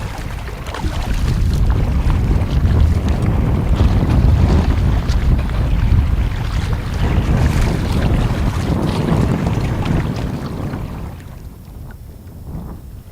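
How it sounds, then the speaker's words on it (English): Strong wind gusts roar across a wilderness lake on a solo canoe trip in Woodland Caribou Provincial Park, a steady loud rushing with water and wind buffeting the microphone, easing off slightly near the end. "the wind took no time in building back up"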